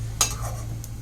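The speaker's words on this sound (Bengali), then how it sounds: "চলো এভাবেই আমি আর কি ফুচকাগুলো ভেজে নিই" Fuchka (pani puri) puris fry in hot oil with a faint, low sizzle under a steady hum, and a utensil clinks sharply once near the start, with no talking.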